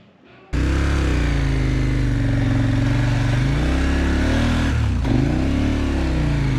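A KTM 1290 motorcycle engine starts after a power button repair and holds a loud, close, steady idle and rumble, with a dip and swell near the end, and no voices.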